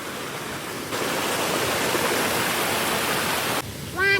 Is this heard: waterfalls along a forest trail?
yes